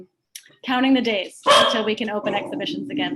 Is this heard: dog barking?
yes